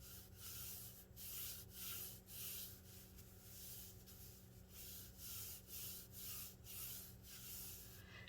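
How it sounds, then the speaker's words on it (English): Hands smooth fabric over a file-folder folio journal cover in repeated rhythmic rubbing strokes, soft and close, about a dozen regular swishes with no talking. "And smooth it all out."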